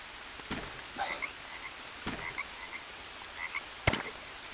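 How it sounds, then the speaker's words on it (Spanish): Frogs croak in the jungle survival video game Green Hell, with several sharp, faint croaks spaced irregularly over a soft, steady background of ambient noise. "Ah, la rana, vale, acabo de encontrar una rana."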